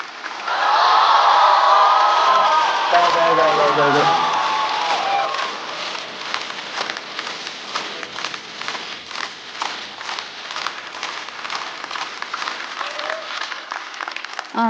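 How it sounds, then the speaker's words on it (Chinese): An audience at a stand-up comedy show breaks into loud applause and cheering as a performer is called to the stage, with cheers strongest at first and clapping settling into a steady patter, a brief word spoken near the start. "掌声有请小蝶。"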